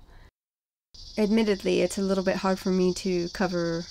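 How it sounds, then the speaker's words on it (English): Cicadas buzz in the background through open windows on a summer day, a steady high insect drone running beneath a man's close, continuous speech. "you might hear some cicadas in the background as I record this"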